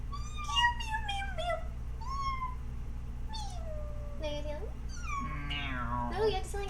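A person imitates a cat, giving a series of high, gliding meows over a steady low hum, with other voices talking around the meows.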